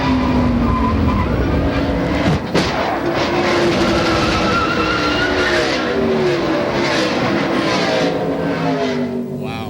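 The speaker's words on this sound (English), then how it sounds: "And just watch how quickly that car slid across the track and hit the inside" Onboard a NASCAR stock car at Darlington Raceway during the 1997 Southern 500, the engine roars steadily as tires skid and the car slides across the track, with a sharp crash into the inside wall, loud and close throughout.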